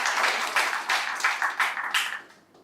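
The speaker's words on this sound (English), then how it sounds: "I would like us all just to give them all another round of applause for such wonderful performance" A conference audience at an Africa regional award gathering gives a round of applause in rhythmic bursts of clapping that fade out toward the end.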